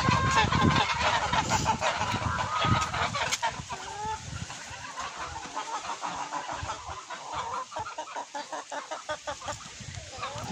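Ducklings and other poultry call repeatedly, loud and close, a busy chorus of quacks and clucks with strong wind rushing underneath.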